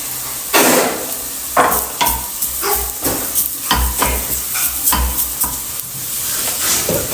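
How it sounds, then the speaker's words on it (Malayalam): Onions fry over low heat in a pan for a chicken fry, sizzling steadily while a spoon scrapes and stirs them in repeated strokes, some knocking against the pan, close and fairly loud. "ഇതാ ഇവിടെ ഉള്ളി പൊരിയുന്നുണ്ട്"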